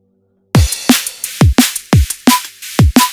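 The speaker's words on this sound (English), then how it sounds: "So let's say I have this drum break, which I created." Drum and bass drum break built from Serum sounds and samples, punchy kicks and snares hitting in a fast syncopated pattern after a half-second of silence, loud and dry with no talk.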